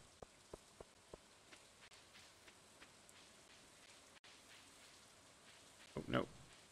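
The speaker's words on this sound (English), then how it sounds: "Still raining." Rain in the Stardew Valley game, a soft, continuous patter under scattered light ticks and small game sounds, with a brief louder rustle near the end.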